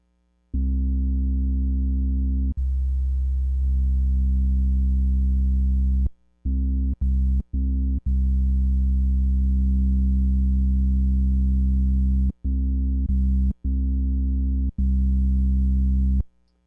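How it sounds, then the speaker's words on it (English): Korg MS-20 synthesizer with its filter resonance turned up plays sustained, sharply resonant tones in several long held notes and short stabs, with brief silences between them and no talking. "I get a little bit more of the resonance sound on the Ms-20"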